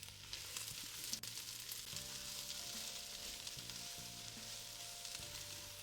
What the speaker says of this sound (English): I'm putting my onions and my red onions.